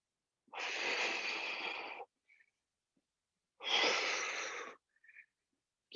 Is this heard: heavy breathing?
yes